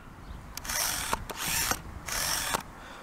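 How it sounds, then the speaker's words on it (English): A Canon 50mm f/1.8 camera lens autofocus motor whirs and grinds in three short bursts, each with a faint click, close up and fairly quiet with pauses between. "in autofocus it makes a loud noise"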